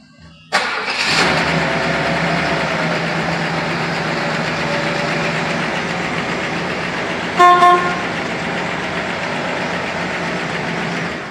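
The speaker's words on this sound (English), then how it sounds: "I'll fire the car up real quick. Engine's cold." A classic car's cold engine cranks and catches with a sudden start, then settles into a steady, loud idle, with a brief extra burst of noise partway through.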